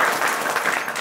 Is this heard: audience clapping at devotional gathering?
yes